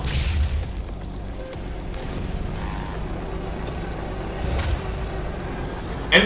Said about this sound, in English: the grenade gets to showcase how effective it is at administering pain